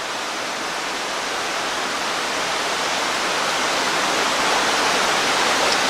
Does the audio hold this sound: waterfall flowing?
yes